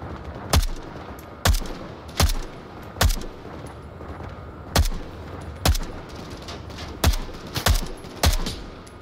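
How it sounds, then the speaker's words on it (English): Gunshots in a video game where players fight terrorists: about nine sharp, loud single shots at irregular intervals of roughly a second, each with a short echoing tail, and no talking. "I wasted three freaking shots on shooting the light"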